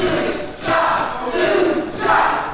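A wrestling crowd at a FUSION Pro Lucha Libre show cheers in loud, surging waves that swell and dip repeatedly, with voices blending into a broad roar.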